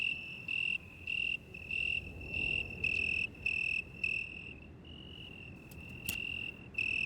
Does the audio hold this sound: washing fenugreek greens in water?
no